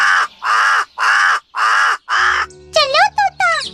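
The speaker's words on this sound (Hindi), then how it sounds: "दूर एक नारियल के पेड़ के ऊपर बैठा कालू कौआ काऊ काऊ करके आवाज लगाने लगा" A cartoon crow perched high on a coconut tree caws five times in a loud, steady rhythm, each caw drawn out, and then a character starts talking over light background music.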